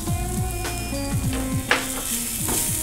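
Chicken kurma masala with boiled chicken, turmeric, coriander powder and salt fries lightly in a pan: a steady, close sizzle under repeated scraping stirring strokes.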